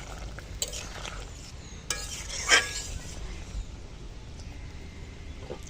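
Potato curry is stirred in a pot on an outdoor brick stove, a few scraping strokes and one sharper clink against the pot over a soft, steady background.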